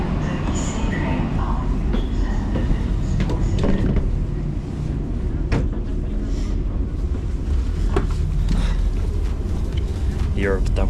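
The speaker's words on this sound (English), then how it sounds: "Europe's double-decker trains." A Belgian double-decker IC train in Brussels rumbles steadily with a low rolling drone, broken by clanks and squeaks, while voices talk over it.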